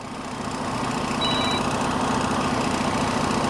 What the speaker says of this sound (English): Once the engine is running, we're gonna see the pressure difference.